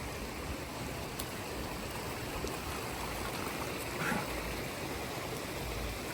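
A river flows steadily on the outskirts of a town in Mexico, a dense broadband rush of water that stays constant and fairly close, with no talk over it.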